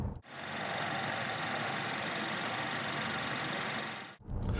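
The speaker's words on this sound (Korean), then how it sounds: "밖에서 들었을 때 엔진음이 그다지 듣기 좋지 않습니다" A SsangYong Korando 1.5-litre turbo petrol engine idles outdoors with a steady, rattly, diesel-like clatter that holds constant for several seconds before cutting off.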